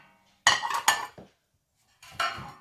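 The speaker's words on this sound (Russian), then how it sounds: "Тарелки гремят, наверное." IKEA plates clatter and clink together in two separate bursts, close and fairly loud, with silence in between.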